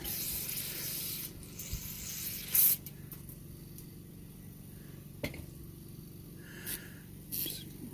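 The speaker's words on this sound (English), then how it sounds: "Shoot more carburetor cleaner." Carburetor cleaner sprayed from an aerosol can onto a Coleman 237 lantern during maintenance, a steady hiss for over a second, then a few short bursts with quiet gaps between.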